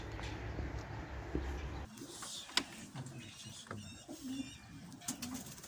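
Birds coo and call softly in the background, with scattered faint chirps and small clicks against a quiet ambient hum.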